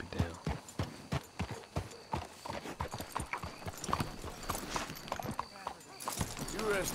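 Horse hooves clip-clop at a steady walking rhythm in the Red Dead Redemption 2 video game, close and fairly loud, with a person talking over the steps.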